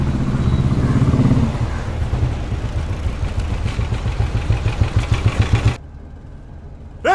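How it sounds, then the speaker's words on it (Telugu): A diesel car engine runs steadily at close range with a throbbing, clattering idle, then cuts off abruptly, leaving near silence before a brief final sound. "ఇంజన్ ఆఫ్ చేయి, డీజిల్ బొక్క."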